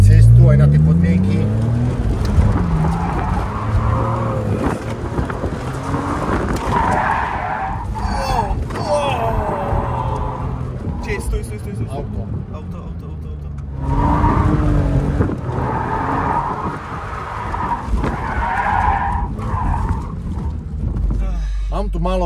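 A BMW M Roadster drifts hard on a dusty desert course, with loud sustained tyre squeal and a revving engine that rise and fall in long bursts while people talk over it.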